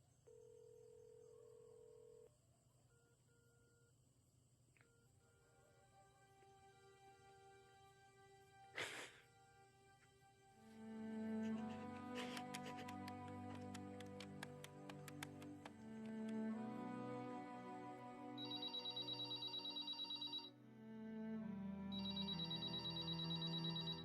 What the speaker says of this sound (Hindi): मैं करता रहूंगा फोन जब तक तू वापस नहीं आ जाती प्रीत।